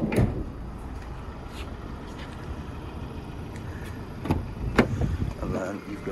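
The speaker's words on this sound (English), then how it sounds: "Side loading door." A Euro 6 van's side loading door slides and thuds shut with a couple of short knocks near the end, over steady outdoor background noise.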